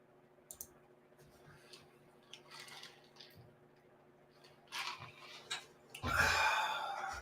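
Computer mouse clicks at a desk, a few faint scattered ticks over a low background hum, followed by louder rustling noise near the end.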